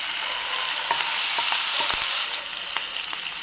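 Curry leaves hit hot oil in a pan that was just used to fry eggs, setting off a loud, steady hiss with a few sharp pops and crackles nearby, easing slightly after a couple of seconds.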